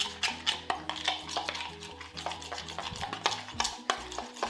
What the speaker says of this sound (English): So give this a bit of a stir round